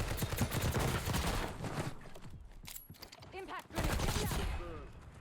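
Rapid automatic gunfire in Call of Duty Warzone, bursts of shots clattering loudly at the start and again near the end, with a quieter lull between them.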